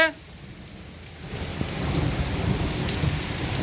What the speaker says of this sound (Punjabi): ਗੜੇਮਾਰੀ ਹੋ ਰਹੀ ਤੁਸੀਂ ਦੇਖ ਸਕਦੇ ਹੋ